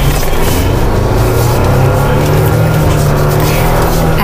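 A Jeep Wrangler Rubicon accelerates hard on an off-road trail, its engine a loud, close, continuous roar whose pitch climbs gradually as the throttle stays down.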